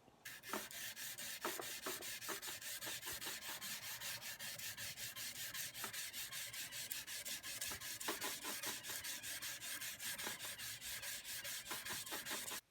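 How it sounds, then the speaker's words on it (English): Steady rhythmic hand sanding of a san mai nakiri knife blade clamped in a jig, a continuous scratchy rasp of back-and-forth strokes, close and even throughout. "I'm going to start hand sanding it"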